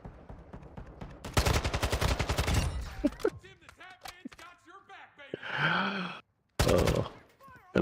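Rapid bursts of automatic gunfire from a gun in Call of Duty, loud and close, breaking off and resuming between groans, gasps and a voice speaking.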